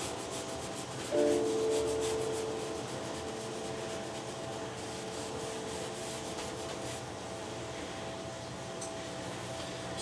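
A palette knife scrapes brown oil paint onto canvas in a steady, soft, continuous rasp, close and unbroken, with a faint low hum in the background and no talking.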